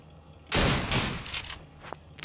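Video game gunfire during a shotgun challenge: a sudden loud blast followed by a burst of rapid shots that fade into a few sharper cracks.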